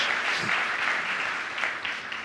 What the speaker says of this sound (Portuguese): Alguém dê uma salva de palmas ao Senhor